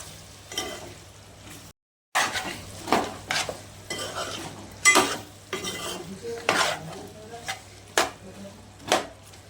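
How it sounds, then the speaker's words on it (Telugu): Pieces of mutton are mixed in a pot with ginger garlic paste, turmeric and chilli powder, giving repeated close scraping and stirring strokes with soft clinks of the spoon and a faint sizzle beneath, broken by one brief silence. "అల్లం వెల్లిగడ్డ పేస్ట్, పసుపు, అల్లం వెల్లిగడ్డ, పసుపు, కారం మంచిగా కలిసేలాగా కలుపుకోవాలి"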